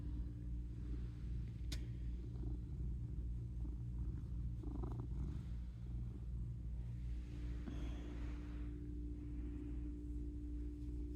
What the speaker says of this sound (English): I wonder if people can hear your little purrs.